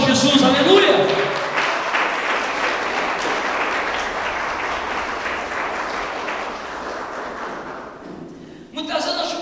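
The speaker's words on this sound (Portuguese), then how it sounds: "dê um forte aplauso a Jesus" A church congregation gives loud, sustained applause that fills most of the clip, fading slightly before a brief renewed burst of clapping at the end.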